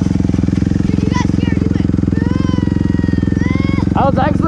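A dirt bike engine runs loud and close during a wheelie while riding in the rain, a steady throbbing drone that swells slightly near the end, with faint voices over it.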